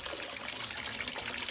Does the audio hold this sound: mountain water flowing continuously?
yes